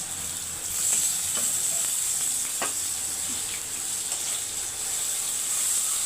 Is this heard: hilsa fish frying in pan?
yes